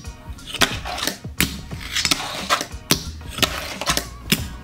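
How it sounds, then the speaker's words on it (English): Fingerboard tricks on a ReVive fingerboard, such as a kickflip nose grind nollie flip, make a run of sharp wooden clacks and brief scraping grinds in an irregular rhythm, close and fairly loud with no talking. "I've switched over to trying a kickflip nose grind nollie flip"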